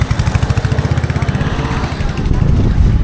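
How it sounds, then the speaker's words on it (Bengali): A rented motorcycle engine revs and pulls away on a road near a beach in Odisha, its rapid pulsing exhaust loud and close, then swelling into a heavier, steady drone as the bike accelerates off. "বাইক নিয়ে চলে যাচ্ছে,"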